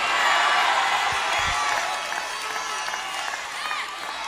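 A church congregation claps and shouts in a loud burst of cheering and whoops that starts strong, then settles into a slightly softer, sustained roar of voices and applause.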